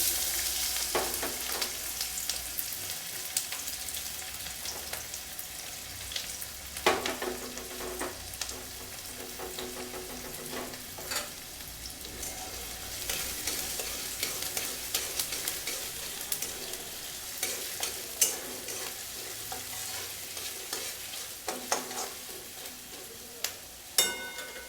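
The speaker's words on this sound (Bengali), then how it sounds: "তেলের মধ্যে এবারে আমি কুচনো পেঁয়াজ দিয়ে দিচ্ছি।" Chopped onion frying in hot oil for a mutton keema chole masala, a steady broadband sizzle with occasional louder crackles and spatters, close and continuous with no voices.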